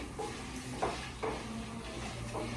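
Gongura leaves sizzling in hot oil in a pan as chutney is cooked, a soft steady fry broken by a few sharp stirring scrapes.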